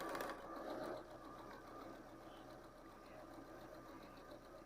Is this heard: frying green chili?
no